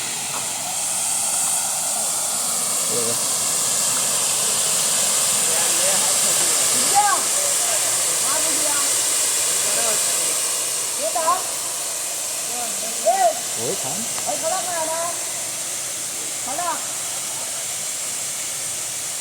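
Steady rushing water of a village waterfall in Konkan, India hisses continuously, heard from a short distance, with faint scattered sounds and voices now and then.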